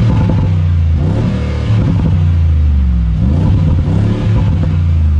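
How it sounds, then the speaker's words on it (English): A 2019 Mercedes-AMG G63 engine revs loudly through its exhaust pipes, deep rumbling swells rising and falling twice in close, continuous roaring bursts with no talking. "play you the symphony, the melody that this car makes. A bit of this with a listen to the exhaust pipes."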